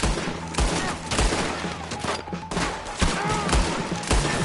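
Repeated gunshots ring out in a Red Dead Redemption 2 wagon shootout, sharp bursts spaced irregularly through a busy battle mix with loud close cracks and scattered background noise.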